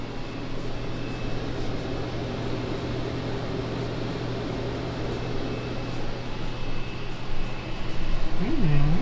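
A Samsung microwave runs steadily while cooking a pizza, giving a constant low hum and fan whir throughout, with a brief rising tone near the end.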